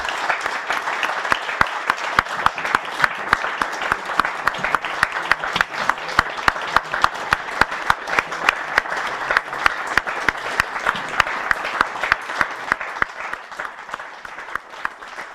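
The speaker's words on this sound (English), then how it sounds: "join me in a torrent of applause for" A lecture audience claps for Jan-Werner Müller after his talk on Christian Democracy, a sustained, even torrent of many hands that holds strong for about fifteen seconds before easing slightly at the end.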